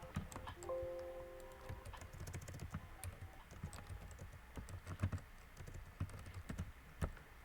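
Steady clatter of computer keyboard typing as a coupon code is entered, a run of quiet, close keystrokes with no voices.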